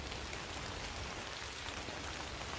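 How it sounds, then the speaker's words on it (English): Rain falls in the woods, a soft, even patter of drops on leaves and ground, steady and fairly faint with no voices. "it is raining"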